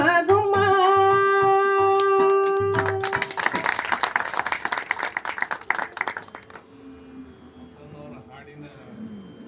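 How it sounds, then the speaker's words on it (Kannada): An audience claps after a sung song ends: a held vocal note fades into a few seconds of lively scattered applause that thins out and stops. "ರಚನೆಗೆ ಬಿದ್ದಿದ್ದ ಅರ್ಧ ಚಪ್ಪಾಳೆ ಬಿದ್ದಿದೆ"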